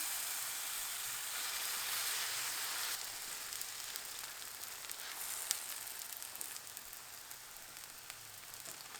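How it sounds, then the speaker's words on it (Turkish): A lavash flatbread cooks in a lightly oiled pan over medium heat, giving a steady soft sizzling hiss throughout with a few faint crackles. "Ve orta ateşte lavaşımızı pişirelim."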